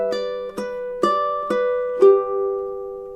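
Ukulele chord melody in a summery strummed style, a few plucked and strummed chords ringing out one after another with a longer sustained final note, played alone and close.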